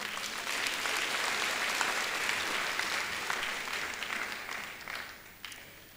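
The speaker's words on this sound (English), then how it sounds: "you deserve a huge round of applause" Steady applause from a large audience at a university graduation ceremony, a broad wash of clapping that holds evenly and then tapers off near the end, with no talk over it.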